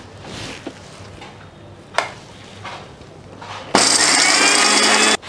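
A mixer grinder grinding roasted red chilies into fine powder, with a few sharp clicks and taps before the motor starts with a loud, steady whirring roar that runs for about a second and a half and then cuts off abruptly.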